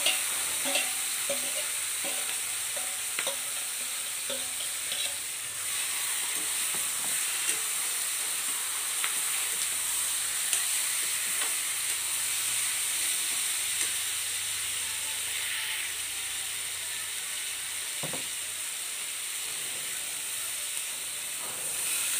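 Spiced chicken pieces fry in hot oil with cumin, giving a steady broadband sizzle and hiss that runs continuously with scattered crackles and occasional utensil taps, close and moderately loud with no talking.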